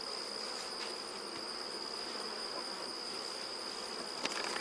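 Steady insect buzzing from bees around a small nucleus colony hive, a dense continuous drone close by with a thin high whine, no voices.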